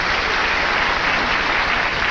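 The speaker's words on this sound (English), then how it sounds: "Give her a big round of applause." Loud, dense applause from a game show studio audience, a steady wash of clapping filling the whole moment without pause.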